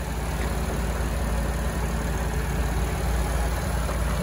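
2017 Cadillac XT5 Premium Luxury, all-wheel drive with a 3.6-liter engine, idling: a smooth, steady low rumble heard close, even and unbroken, with no voices.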